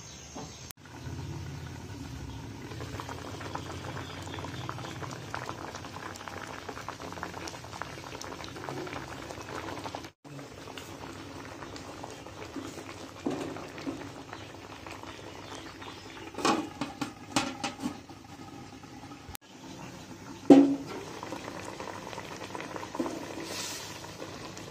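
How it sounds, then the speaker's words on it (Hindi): Raw mangoes boiling in water in a covered pot over medium heat for murabba, giving a steady bubbling simmer throughout with a few clinks and knocks near the end and no talk. "अब हम ऊपर देंगे ढकना और दरमियानी आंच पर आम को उबलने देंगे।"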